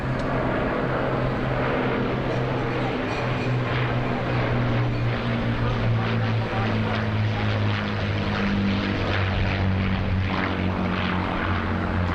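An Avro Lancaster bomber makes a flypast at the Royal International Air Show at RAF Fairford. Its piston engines and propellers drone loudly and continuously, with a steady low rumble throughout.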